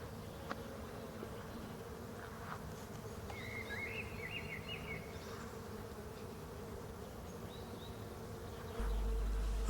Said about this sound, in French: tout de suite on entend bien les abeilles